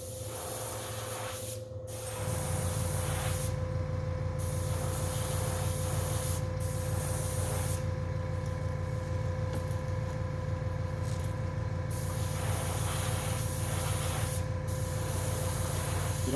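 A spray can lays down light coats of paint, making a steady close hiss that runs almost unbroken, with a few brief pauses and small clicks from handling.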